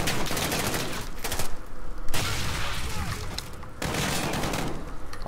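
Gunfire in the video game Modern Warfare: loud, dense bursts of rapid shots and fusillades fill the stretch, broken by brief lulls before the firing resumes, with no voices.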